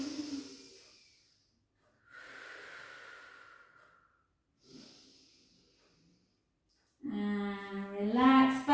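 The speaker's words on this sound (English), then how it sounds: "Take a nice breath in." A deep breath drawn in during a gentle quad stretch in a toning and strengthening exercise session, heard as a few soft, airy inhales and exhales close to the microphone, ending in a louder, voiced breath.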